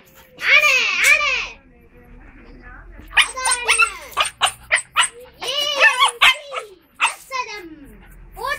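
Dogs bark and yip in short, loud bursts at a dog competition, clustered in irregular groups with brief pauses, mixed with nearby human voices.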